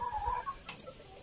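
Turkey (pabo) clucking close by, one short burst of throaty clucks near the start and then fading into quiet farmyard background.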